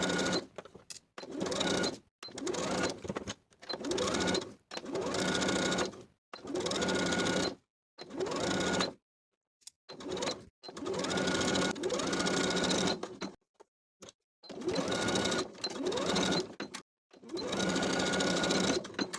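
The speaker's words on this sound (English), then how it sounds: "Then we can sew around the neckline from center back to center back with a 3/8 inch seam allowance" Sewing machine stitching a facing around a blouse neckline with a 3/8 inch seam, running in repeated bursts of steady whirring separated by short pauses, close and loud with no talking.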